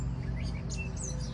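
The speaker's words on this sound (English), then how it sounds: "the birds are actually kind of loud" Birds chirp and tweet in short, scattered calls outdoors on a sunny day, heard over a steady low rumble of yard mowing nearby.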